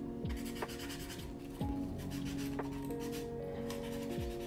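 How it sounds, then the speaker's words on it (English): A sanding sponge rubbed across a painted scale model, repeated scratchy rubbing strokes close up, over a background of music with a steady tone. "nobody takes a sanding sponge to a painted model"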